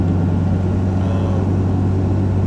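A Cummins diesel engine swapped into a Ford F-250 idles with a deep, steady rumble and a throbbing low drone, continuous and close.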